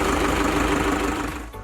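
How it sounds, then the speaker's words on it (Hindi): A tractor's diesel engine, started with the key, gives a loud, steady, rough rumble up close before it dips and changes tone at the end. "सबसे पहले ट्रैक्टर को चाबी द्वारा स्टार्ट करते"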